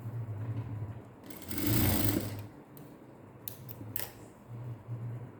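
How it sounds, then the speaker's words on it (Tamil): A sewing machine stitches a blouse in short bursts, its quick mechanical whirr starting and stopping between quiet pauses, with soft clicks in between, nearby and fairly quiet. "இப்போ தைச்சிட்டு இதோட நிறுத்தி இந்த சைடையெல்லாம் நம்ம அப்படியே நகராமல் இருக்கிறதுக்காக ஒரு ஸ்டிச் போட்டுக்கிறோம்"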